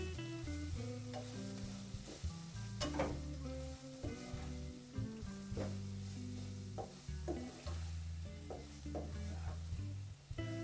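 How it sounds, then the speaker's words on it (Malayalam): Beans stir-fry sizzling in a pan while being stirred, steady frying hiss broken by repeated scraping and clinking strokes of the spoon, close and alone. "ഇതെല്ലാം കൂടെ നല്ലോണം മിക്സ് ചെയ്യാം"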